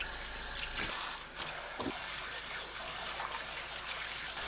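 Water runs from a tap while spring cabbage is washed by hand, a soft continuous trickle with faint splashes and leaf rustling, quiet and close, no voices.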